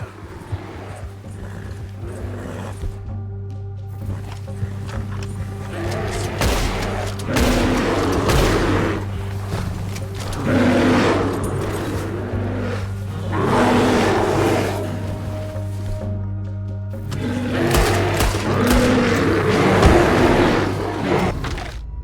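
Repeated bursts of gunfire and booming shots in the Western video game Red Dead Redemption, loud and dense over a steady low hum, arriving in several waves across the stretch with no talk.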